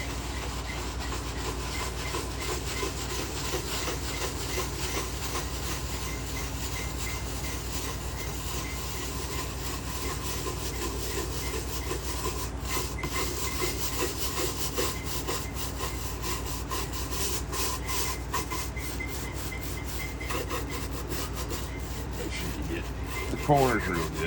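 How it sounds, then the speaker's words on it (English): Steady scrubbing of the worn vinyl covering on an old, dirty amplifier, a continuous rasping rub that runs close and unbroken throughout with no talk. "Just scrub."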